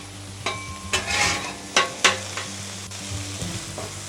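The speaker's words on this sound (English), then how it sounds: "As we try to render some of this bacon fat on the griddle" Bacon fat renders on a flat griddle with a steady sizzling hiss, broken by a few sharp scraping and tapping strokes of a utensil against the cooking surface.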